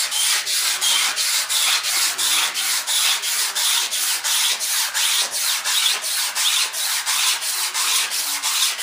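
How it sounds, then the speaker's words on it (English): Sandpaper scrubbing across fiberglass on an RC airplane, heard as steady, rhythmic back-and-forth rasping strokes, roughly two per second, close and loud with no talking. "Sandpaper will actually get in there and start cutting these fibers and wearing them fibers down."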